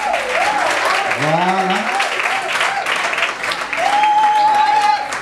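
Wedding guests applauding, steady sustained clapping from a crowd that fills the whole stretch, with a voice briefly speaking and a musical tone rising over it near the end.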